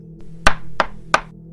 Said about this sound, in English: Suddenly, there was a knock on the door that got her attention.